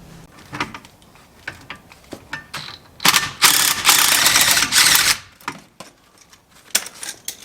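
An impact wrench buzzes off the differential bolts on a BMW E36, with a loud sustained burst of about two seconds in the middle, surrounded by scattered clicks, clanks and tool handling up close.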